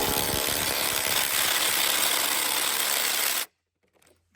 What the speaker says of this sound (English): we just use the impact with a 3/4 inch driver